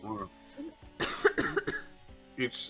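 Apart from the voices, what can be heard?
cough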